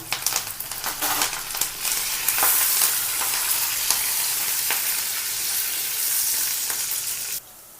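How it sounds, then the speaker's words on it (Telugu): Curry leaves frying in hot oil for atukula (poha) upma give off a steady, close sizzle with crackling pops that settles into a continuous hiss before cutting off near the end. "వేగేయండి కరివేపాకు వేస్తున్నాం"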